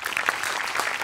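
Audience applause from a Marathi comedy show, a brief, steady wash of clapping hands, fairly loud and unbroken.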